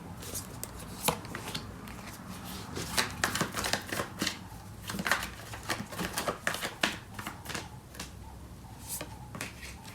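Tarot cards being shuffled by hand in repeated crisp riffling bursts and slaps, fairly close and steady across the whole stretch, with no talking over it.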